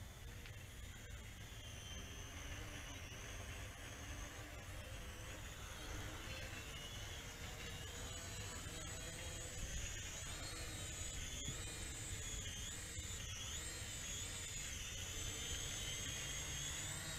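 A JJRC H11WH Wi-Fi FPV camera quadcopter drone hovers with its motors running, a steady high whine with shifting pitch that holds loud and continuous throughout, with no speech.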